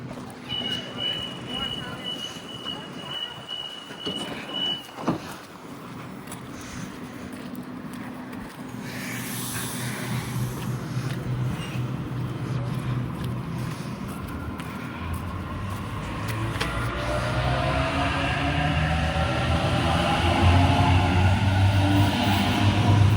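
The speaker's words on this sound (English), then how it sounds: "that is A71 departing platform 4 for a Richmond service" Sydney A71 suburban train departing platform 4 at Westmead station on a Richmond service, its motors building from a low rumble to a louder, rising whine as it pulls away, with a person talking early on.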